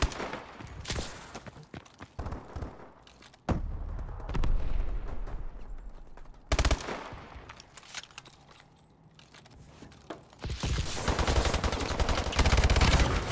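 Gunfire in Riot EC Hardcore, a video game: loud bursts of automatic shots and sharp single cracks arrive in clusters, broken by quieter stretches and ending in a dense, sustained volley.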